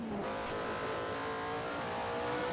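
High-pitched F1 race car engine in a 1991 Hungarian Grand Prix racing game, a continuous loud whine holding high revs with a brief bump near the start, no voices.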